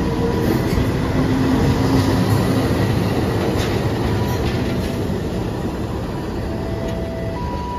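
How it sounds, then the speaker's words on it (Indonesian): A commuter locomotive being shunted on the Indonesian rail line at Cikampek–Cirebon, a loud, steady rumble of wheels and engine rolling close by, with faint squeals and clatter and no talk. "Lokomotif komuter lain Supas dilangsir."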